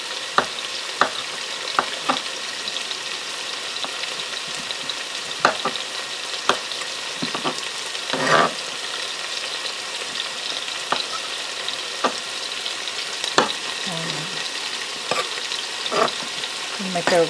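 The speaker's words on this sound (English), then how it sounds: "get them browned and nice and let them release their nice brown juices" Fresh mushrooms brown in a hot pan with a constant sizzle, broken by repeated sharp clacks of a utensil stirring and scraping at irregular intervals.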